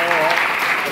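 Brief burst of dense audience applause at a live show, steady and fairly loud, with voices mixed in.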